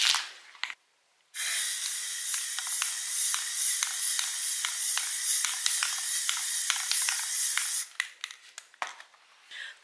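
Spray paint hisses in a garage as a wooden bead garland gets coated, with a short burst, a pause, then a long steady spray followed by a few brief sputtering puffs.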